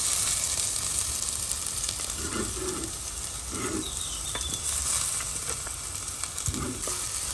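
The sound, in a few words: chopped onion sizzling in hot oil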